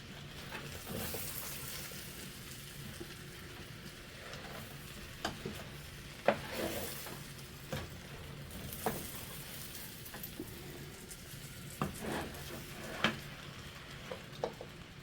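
Green onions and white onions frying in a pan, a steady soft sizzle with occasional sharp clicks and scrapes of stirring, close and fairly quiet, no voices.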